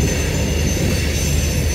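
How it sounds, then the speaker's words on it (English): A passing train fills the scene with a steady, loud rumble and a high metallic wheel squeal that persists throughout, with no voices over it. "I swear there's a fucking train."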